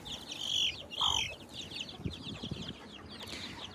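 A young chicken chirps and clucks nearby in a few short, high-pitched calls, with some soft rustling and handling noise in the background.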